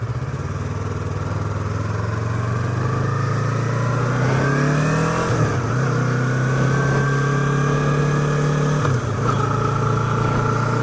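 A motorcycle engine, a Yamaha R3 sport bike, runs steadily and loud throughout, with rising tones as it revs up around the middle and a brief dip before climbing again, close by with no talk.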